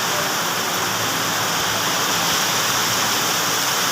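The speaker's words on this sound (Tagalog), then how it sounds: "Lakas na ulan! Grabe yung lakas eh. Parang ayaw tumigil." Heavy rain pours down in a dense, unbroken roar that stays loud and even throughout, with no voices heard.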